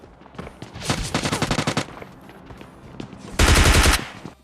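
Bursts of automatic gunfire in PUBG Lite, a rapid rattling volley followed after a pause by a louder, denser burst, with no one talking over it.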